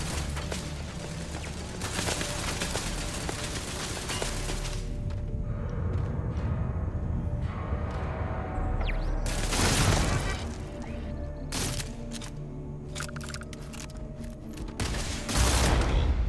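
A legendary pistol fired in the video game Starfield, with sharp, loud shots ringing out in scattered bursts over a steady mechanical game background, clustering more rapidly toward the end.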